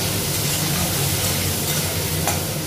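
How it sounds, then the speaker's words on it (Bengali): Potatoes and onions fry together in a pan, giving a loud, continuous close sizzle that holds steady throughout with no voices. "আলুটাও ভাজা হবে, পেঁয়াজটাও ভাজা হবে,"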